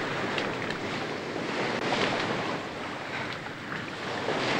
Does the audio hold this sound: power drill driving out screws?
no